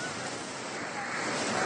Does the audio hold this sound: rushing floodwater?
yes